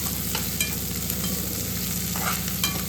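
Chopped cabbage and pumpkin sautéing over high flame in a pan, with a continuous sizzle and quick scraping stirs close by.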